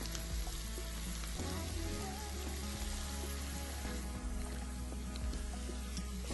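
Vegetables stew and sizzle in a pan, a steady close crackling hiss with soft bubbling and occasional pops, no voices.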